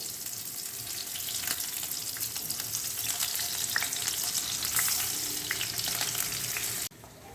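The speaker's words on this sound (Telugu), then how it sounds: "ఈ ఆయిల్లో ఫస్ట్ ఉత్త చేపలే వేయించి పక్కన తీసుకోవాలి" Dried salted fish frying in hot oil in a home kitchen, a steady close sizzle and crackle with occasional stirring scrapes, running evenly before cutting off abruptly near the end.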